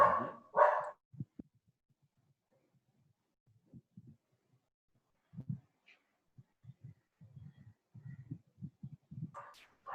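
A dog barks sharply a couple of times, then quieter low grumbles and soft woofs follow in irregular bursts amid near silence.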